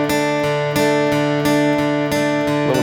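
A guitar passage picked with a plectrum only: bright, ringing chord strokes struck in a steady rhythm of about four attacks, each sustaining into the next, played alone and close.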